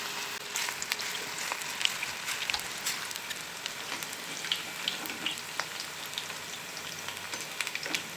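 Onion pakoda batter frying in hot oil, a steady crackling sizzle with dense pops and spits throughout, moderately quiet and close, no talk.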